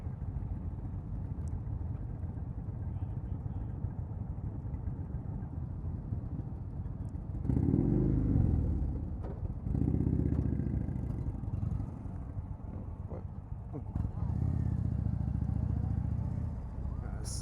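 A 2019 Indian Springfield Dark Horse motorcycle with the 111 engine runs steadily at low revs, with throttle swells and wind noise as it pulls away.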